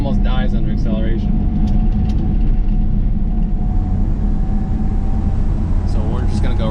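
An old Ford Ranger driving at light throttle with a suspected worn wheel bearing, heard from inside the cab as a steady, loud rumble of engine and road noise. Someone talks over the start.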